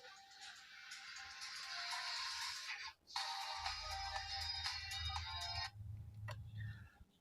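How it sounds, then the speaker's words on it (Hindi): An incoming call sets off a phone ringtone: a bright electronic melody playing fairly loud and near, briefly breaking off and resuming before stopping, with a low rumble underneath in its second half. "फोन आ गया था"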